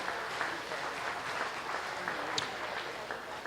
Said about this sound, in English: Let's give a nice round of applause to the exhibitors on bringing out some dandies